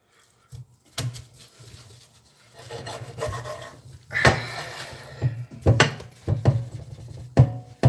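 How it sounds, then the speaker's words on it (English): Scrubbing at blackened spots on cookware, an irregular series of rasping, rubbing strokes at close range, some sharper scrapes, with no talk. "So we got a little bit more scrubbing to do."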